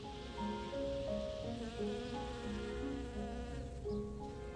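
Bees buzzing close by, several overlapping droning tones that shift in pitch as they move about, continuous and fairly loud.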